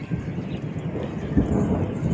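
Heavy monsoon rain pours down with a low, rolling rumble of thunder, a dense continuous wash of sound with a slightly louder swell near the end.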